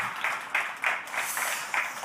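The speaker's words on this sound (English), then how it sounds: "please let's give a round of applause to Bogdan" Faint applause for a presenter at a climate accelerator demo day, soft clapping that swells in brief, evenly spaced waves, heard from a distance.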